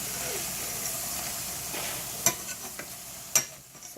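Tortillas fry in hot oil in a pan, a steady close sizzle and hiss punctuated by a few sharp scrapes and clacks as they are pushed around to keep them from burning.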